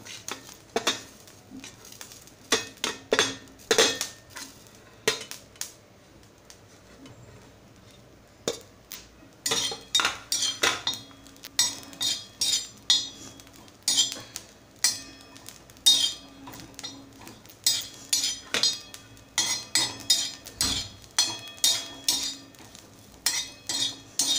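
Dry coconut roasting in a pan for a Malvani-style masala, with repeated scraping and clinking stir strokes against the metal alongside a soft sizzle, growing busier and more rhythmic through the second half.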